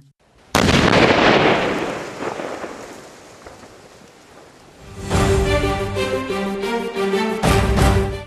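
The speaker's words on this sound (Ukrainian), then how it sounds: "Вивезли їх у спеціально відведене місце та знищили шляхом підриву" Artillery shells are detonated: a sudden heavy blast bursts out and rolls away slowly, followed later by loud continuous crackling and rumbling with several sharp surges.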